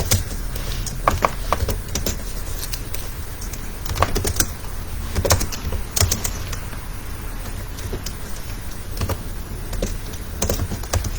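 Keys clatter on a computer keyboard as a JavaScript program is typed, a steady run of light, close clicks with scattered sharper taps over a faint background hum, no voices.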